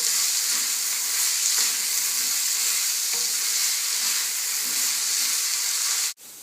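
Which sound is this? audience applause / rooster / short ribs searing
short ribs searing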